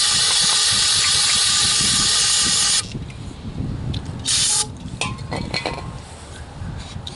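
A steady, loud aerosol spray of brake cleaner hisses for almost three seconds while flushing an oil dipstick tube seal area on a Chevy Cavalier, then stops, leaving softer clinks and shuffling handling noises.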